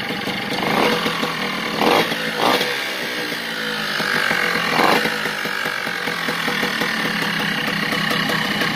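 A Piaggio moped engine fitted with a DR65 cylinder and a Malossi filter runs up close with a buzzy, rough two-stroke drone, and the revs rise and fall in a few short blips.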